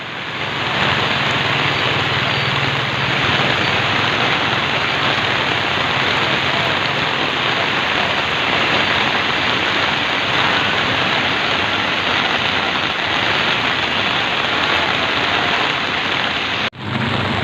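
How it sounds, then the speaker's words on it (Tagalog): Heavy typhoon rain pours down during flooding in Pasig as a loud, dense, unbroken roar of rain hitting surfaces that lasts throughout, with a brief dip at the very end. "lakas na po ng ulan"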